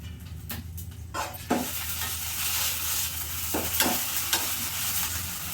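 A paste of ginger, garlic, coriander and cumin sizzles steadily in a hot pan, with a constant frying hiss and a few soft stirring scrapes, close and moderately loud.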